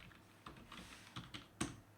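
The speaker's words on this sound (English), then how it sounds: "So we have to type the password one time here." Soft keystrokes tap on a computer keyboard as a password is entered, a handful of irregular, quiet clicks with one sharper press near the end, close up in a quiet room.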